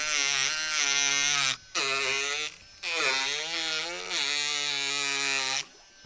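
A Ryobi 4V USB cordless power carver fitted with a round carving bit runs with a steady high buzzing whine, cutting out briefly twice and dropping away near the end, with no voices.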